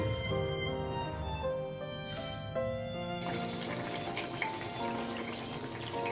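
Okra and potato curry simmers covered in a pan, giving a soft, continuous bubbling and sizzling with faint clinks, fairly quiet and with no talking.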